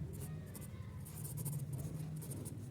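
A pen scratches across paper during a maths lesson, making faint, close, continuous scribbling strokes. There is no talking.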